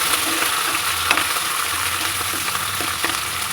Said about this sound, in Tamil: இப்போ கட் பண்ணி வச்சுருக்கிற வெங்காயம் ஒரு கொத்து கருவேப்பிலை இதை இப்போ கலந்துடலாம் நல்லா நல்லா இப்படி வதக்கி விட்டுக்கோங்க